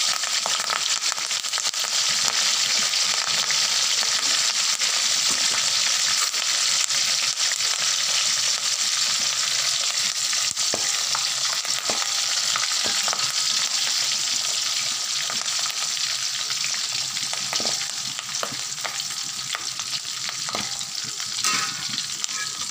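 Chicken 65 frying in hot oil with curry leaves added, a dense, continuous loud sizzle and crackle with occasional stirring clicks, steady throughout and close.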